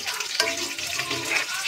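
Chicken meat sizzles and crackles in a hot pan as it is stirred, a close, steady frying hiss with a brief sharper spatter near the start.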